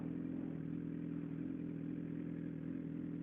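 A Yamaha R1 sport motorcycle rides along with a steady, droning engine hum and wind rush at an even, moderate level, with no talking.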